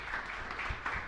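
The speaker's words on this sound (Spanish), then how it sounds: "un fuerte aplauso para Cuña Caray" Brief burst of applause from a congregation in a chapel during a Mass, a soft, distant patter of many hands clapping steadily without a pause.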